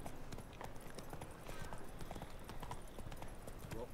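Horse hooves clip-clop steadily in The Witcher 3: Wild Hunt, a dense run of close hoofbeats over a continuous ambient game backdrop.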